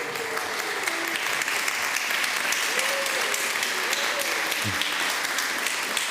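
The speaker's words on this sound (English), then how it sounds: "I love how easy it is to get an applause in this crowd." A conference audience claps steadily and continuously throughout, a dense, even wash of applause filling the hall with no pauses and only faint voice traces beneath it.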